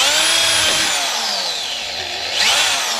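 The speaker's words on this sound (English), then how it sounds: "the wire brush allows you to get in there." A wire brush on a power tool works over the metal forks of a Ninja motorcycle under restoration, giving a loud, continuous whine that rises and falls in pitch as it is pressed into the metal, with no voices.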